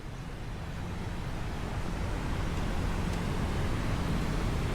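Constant broadband rush of water from an artificial waterfall at an elevated city sky park, steady and fairly loud with no breaks or voices.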